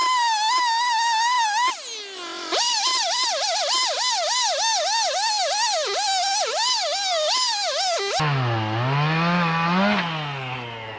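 A STIHL MS 391 chainsaw revs hard in a long sustained cut through wood on a farm, its loud whine dipping and surging as the blade bites, then drops to a lower uneven idle.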